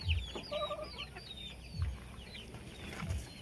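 Rhode Island Cross chickens cluck steadily in a coop, with an occasional higher call and rustling, heard at moderate distance with no talking.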